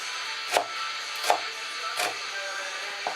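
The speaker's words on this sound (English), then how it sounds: "Really finely chop it." Three or four slow, evenly spaced knife taps on a board as garlic is finely chopped, fairly faint, with quiet room noise between them.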